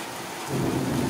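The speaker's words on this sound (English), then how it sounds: "We're having a giant rainstorm right now" Heavy rain pours steadily during a thunderstorm with hail and flooding. A deep rumble of thunder swells in halfway through and stays loud.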